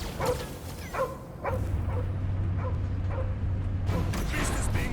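Cosmo, a dog character in the Guardians of the Galaxy video game, whimpers and yips in a few short cries over a steady low game rumble, with game voices around.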